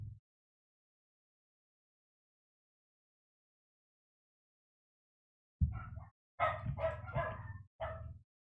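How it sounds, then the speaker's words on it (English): Dog barking in a game battle: several short, sharp barks in quick succession near the end, loud and alone after a long silence. "Bark, bark, bark."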